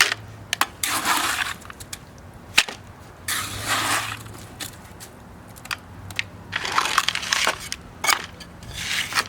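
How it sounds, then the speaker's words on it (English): Wet cement poured into a weight plate mold, coming in as repeated bursts of grainy, crunching scrape with sharp clicks and taps between them, fairly close and with no voices. "So we're going to start pouring the cement in."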